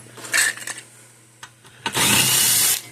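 A compact power tool spins bolts out of a Gallagher load bar weigh scale, with brief whirs early on and then a loud, steady whine for about a second near the end.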